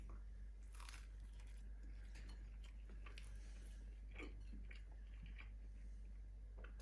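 Someone biting and chewing air-fried crumpets, a few soft crunches and wet chewing sounds spread irregularly over a steady low hum, close but quiet.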